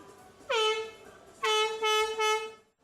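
Plastic football fan horns sold for the World Cup in Brazil blow loud sustained honking blasts, one long note followed after a pause by three more close together, with no talking.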